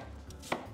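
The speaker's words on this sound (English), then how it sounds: "So all you wanna do is roughly chop this" A knife roughly chopping an onion on a cutting board gives a single sharp, close knock against a quiet background.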